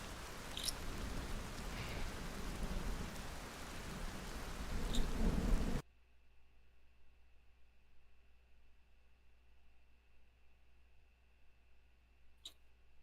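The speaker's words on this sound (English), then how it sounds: "sound of rain is a little diminished" Heavy rain with thunder pours loudly and densely, then cuts abruptly to near silence with a faint distant hum and one brief sharp crack near the end.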